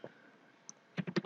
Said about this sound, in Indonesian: Kita ketikkan IP untuk PC3